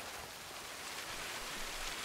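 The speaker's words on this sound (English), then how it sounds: "I hear a waterfall" Continuous hiss of a Sea of Thieves waterfall, an even, dense roar of falling water heard at moderate distance, no voices or other events over it.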